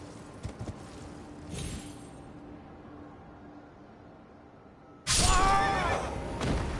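A horse whinnies in Elden Ring, a loud burst near the end following quieter game ambience and brief thumps, with the neigh sounding close and clear.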